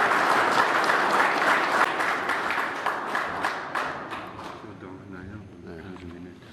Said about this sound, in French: Et j'applaudis très fort.